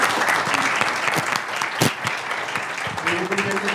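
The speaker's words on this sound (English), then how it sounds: "please a big round of applause" A business club audience applauds after a CEO's talk, dense continuous clapping filling the space, with a few sharper claps and a voice briefly audible near the end.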